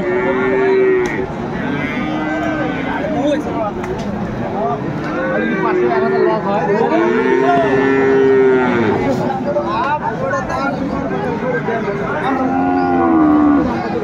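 Several Sahiwal bulls and calves moo repeatedly at a cattle market in Kurigram, Bangladesh, loud and close, their long calls overlapping over busy crowd chatter and a low outdoor rumble.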